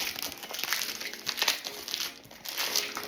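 Cellophane wrapping is ripped off a Viking Dubai Baharara fragrance box close up, with continuous crinkling and crackling plastic and a few sharper tearing bursts and no talk.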